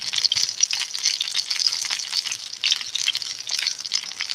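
A pot of rice with butter being stirred over a campfire-style setup, a bright steady sizzling hiss broken by rhythmic scraping strokes, close and fairly loud, with no talking.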